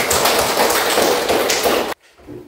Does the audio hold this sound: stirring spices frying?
no